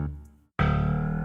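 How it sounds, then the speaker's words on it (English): Layered electronic bass for a drum and bass funk track, processed with OTT compression, distortion and reverb: a short tone cuts out, then a dense, buzzy sustained bass note plays loud and alone. "if you add some OTT as well as some distortion, some reverb, it sounds a bit more natural"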